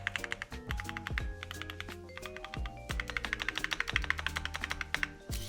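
Fast, steady typing on a Keychron Q2 Max aluminium-cased keyboard with brown tactile switches, a close run of crisp keystrokes with a few lower thocky hits, heard alone.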